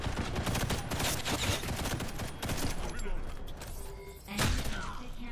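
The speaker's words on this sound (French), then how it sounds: "le mec il m'a foutu un gros headshot dans la gueule" Gunfire in the online shooter Ghost in the Shell First Assault comes in dense, loud rattling bursts of shots mixed with game effects, pausing briefly before another sharp volley near the end.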